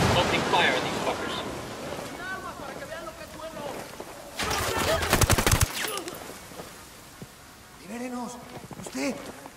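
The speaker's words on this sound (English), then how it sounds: "Opening fire on these fuckers." Burst of rapid automatic gunfire from a video game shootout, a dense loud volley of shots in the middle amid game chatter and voices talking before and after.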